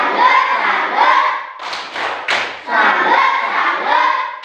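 A school class doing a rhythmic clap salute, a few sharp clustered claps in the middle framed by the group chanting together.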